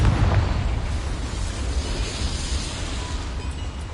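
Confringo fire-blast spell bursting in a Hogwarts game, a deep rumbling explosion at the start that trails off into a long fading roar.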